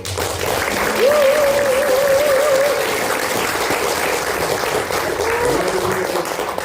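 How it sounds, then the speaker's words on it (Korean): An audience applauds steadily at a political New Year talk concert in Sejong, sustained clapping throughout with a faint tonal whine over it. "다시 한번 오래 박수."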